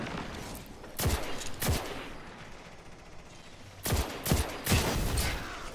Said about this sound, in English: somebody's using a grenade launcher